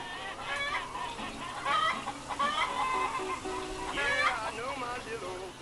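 Chickens cluck and squawk in a busy, overlapping chorus. The sound is steady and fairly close, with harsh, wavering calls and no pauses.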